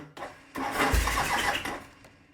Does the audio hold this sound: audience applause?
no